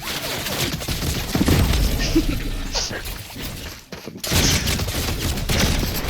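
Gunfire in a video game crackles in dense, rapid volleys that run almost without pause and briefly drop out once, loud and close.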